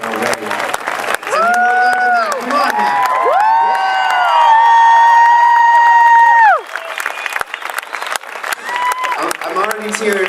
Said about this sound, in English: I want to hear a huge round of applause